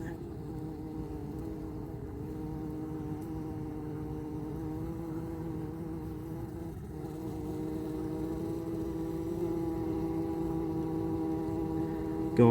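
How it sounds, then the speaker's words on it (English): Honeybees hum in a steady, dense drone at a hive entrance in an apiary, a continuous close buzz with slight swells and no talking. "Guard bee coming out to see who I am."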